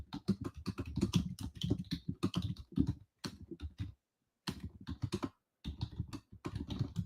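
Fast, continuous typing on a computer keyboard during a live online meeting, dense close clicks in rapid bursts with a brief silent break in the middle, no talking.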